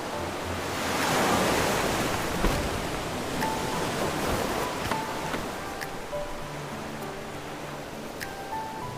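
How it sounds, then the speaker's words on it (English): Ocean waves wash steadily in the video game Love and Deepspace, a broad continuous surf rush swelling early then settling, with faint soft musical tones rising in the background. "The waves will carry us to that empty stretch of sea once more."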